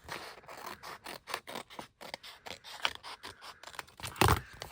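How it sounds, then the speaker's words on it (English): Scissors trim paper along the edge of a junk journal page, a quick close series of crisp snips and light scraping with no talking. "I'm just going to trim off the bottom."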